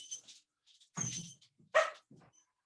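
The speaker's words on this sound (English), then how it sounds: "let me let in my dog. It's whining at me." A dog at the door, whining to be let in, gives three short bursts of whines and yips, close and fairly loud, with silent gaps between.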